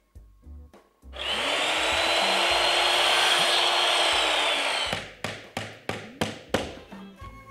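Wall paneling trim being cut and nailed: a loud, continuous power-tool whine runs for about four seconds, then six or seven sharp, close hammer taps follow in an uneven rhythm.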